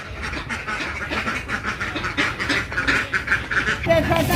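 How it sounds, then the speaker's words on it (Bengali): A flock of ducks gathered in one spot, quacking together in a steady, dense chorus of overlapping calls at moderate distance, continuing throughout with faint talk underneath. "সবার হাঁস এক জায়গায় হয়ে কি ডাকাডাকি করতেছে"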